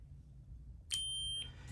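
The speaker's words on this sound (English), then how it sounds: "You get a beep." A single short electronic beep from a lightsaber sound board, triggered by holding the font button, sounds close by, a steady high tone lasting about half a second against a quiet hum.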